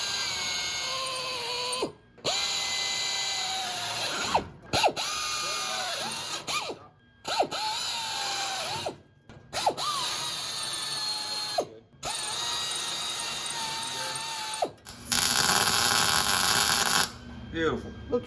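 Power drill boring through the steel body panel of a 1961 Ford Falcon fitted with a 1963 fastback roof, prepping for spot welds; repeated bursts of whining drilling start and stop in separate runs, with a brief gap between each.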